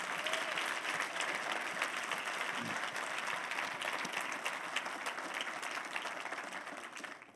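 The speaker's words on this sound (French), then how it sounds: "Est-ce que je peux avoir une main d'applaudissement, de reconnaissance?" Steady applause from a church congregation, full and even clapping from many hands lasting throughout before easing slightly at the close.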